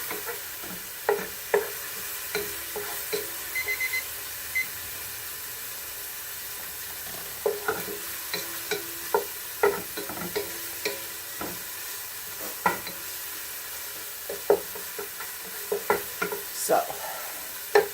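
Onions cooking in a pan for caramelizing sizzle softly and steadily, with occasional sharp scrapes and taps of a utensil stirring them through the quiet frying hiss.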